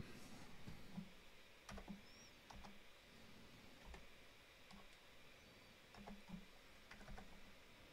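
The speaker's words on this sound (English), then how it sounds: "I'm typing this on Dvorak" Quiet typing on a computer keyboard in Dvorak layout while editing in Emacs. Irregular, light key clicks come in small bursts with short pauses between them, close to the microphone over a soft background hiss.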